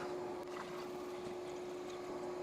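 Water with air bubbles flows through a Frigidaire PureSource Ultra refrigerator filter, giving a faint, steady rushing hiss with a constant hum underneath and no voices.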